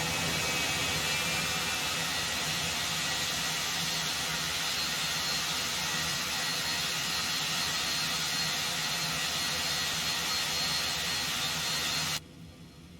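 Cessna Citation X jet engines in the X-Plane 12 flight simulator, a steady broadband roar and hiss holding at even loudness for about twelve seconds before abruptly dropping to a low rumble.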